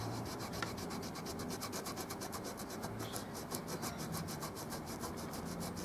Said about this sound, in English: I'm going to just wet my hands and kind of rub it off, see if it rubs off without taking the logo with it.